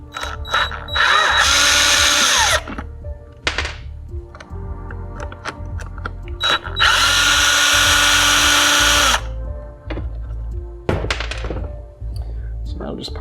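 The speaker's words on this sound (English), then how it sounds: "And yes, I'm using a drill." A power drill whirs in two long bursts, removing screws from an SAS-12 shotgun, with short thunks and clicks between, loud and close.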